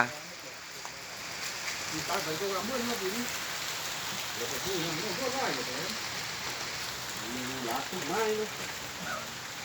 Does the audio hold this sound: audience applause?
no